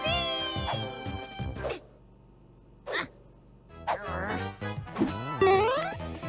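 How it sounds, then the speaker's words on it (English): A cartoon cat gives several high, drawn-out meows and squeaky cries in bursts, close and loud, with short gaps between them and animated character voices mixed in. "we can't just leave this cat here! Look how cute he is!"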